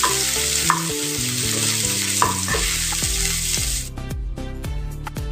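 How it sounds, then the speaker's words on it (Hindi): Ginger-garlic paste and spices stirred in hot oil with asafoetida for a potato sabzi, a steady loud sizzle with scraping spoon strokes over background music, no talking. "अच्छे से मिक्स कर लेंगे"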